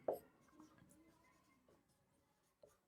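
A line being written on a board during a chemistry lesson in a classroom: quiet, scratchy writing strokes with a sharper tap at the start and another near the end, with no talking.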